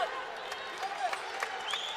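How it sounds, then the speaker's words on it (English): A crowd roars at a Big Ten college wrestling match between Michigan State and Iowa in the 184 lb class. The cheering and clapping sit steadily in the background beneath a commentator talking. "This crowd is electric."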